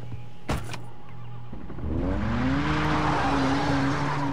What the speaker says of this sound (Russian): Моя любимая старая разлобанная тачка.